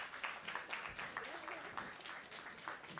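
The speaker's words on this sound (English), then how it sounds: "let's not stop clapping till she's seated" Audience applause at the CAWSTEM Summit 2024 as a guest is seated, a steady wash of clapping at moderate distance with faint voices mixed underneath throughout.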